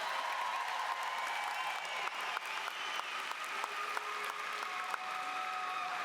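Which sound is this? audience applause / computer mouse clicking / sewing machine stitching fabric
audience applause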